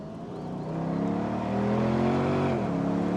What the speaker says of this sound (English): let's hear this glorious V8 in all its glory